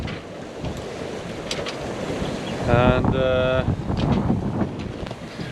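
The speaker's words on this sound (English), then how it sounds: "I'm really happy that we have the waves behind us and the wind behind us" Ocean waves and wind roar steadily around a sailboat under way, with wind buffeting the microphone while someone speaks briefly over the noise.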